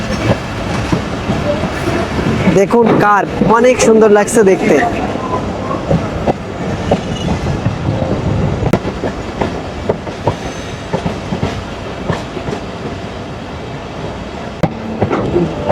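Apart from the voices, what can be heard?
Mongla commuter train slowing near Singia Junction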